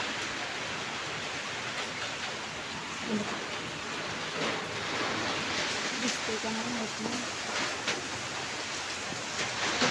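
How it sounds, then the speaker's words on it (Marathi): Heavy monsoon rain falls on the Matheran hills as a constant dense hiss, steady and fairly soft throughout, while someone speaks briefly over it. "आता चांगलाच पाऊस आला बघा"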